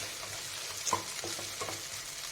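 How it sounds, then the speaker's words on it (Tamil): Ginger and garlic sautéing in a pan for a spicy tomato gravy: a steady close sizzle with a few soft scrapes of stirring, no voices. "நல்லா இஞ்சி பூண்டு போட்டிங்கன்னா நல்லா அதை வணக்கிக்கிட்டே இருக்கணும்"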